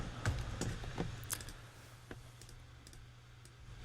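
Sparse, irregular clicks from a computer keyboard, typed at a desk among several computers; the taps are close and fairly quiet, scattered over a low background hum with no talk.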